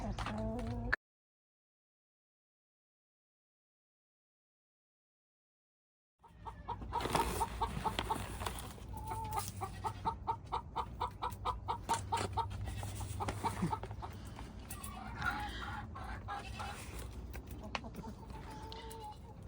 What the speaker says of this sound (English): I feed my chickens GRUBTERRA black soldier fly larvae.